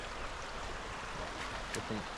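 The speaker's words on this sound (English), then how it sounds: "now we've got a little creek coming through" A small rain-fed creek running through a riverside campsite, a steady rushing flow close by that fills the whole stretch, with no talk over it.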